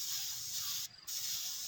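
An aerosol can of spray paint hisses steadily onto a shoe rack, a close continuous spray broken by one short pause before it resumes.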